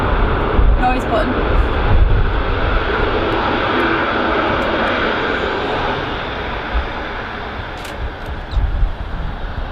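A loud fixed-wing airliner passes at Manchester Airport, its engines a broad, sustained roar that swells and holds near, with faint talk in the background.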